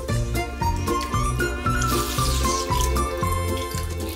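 Water poured over toy baby dolls during a bath-time routine, a steady splashing and trickling stream with a repeating low rhythmic music bed running underneath throughout.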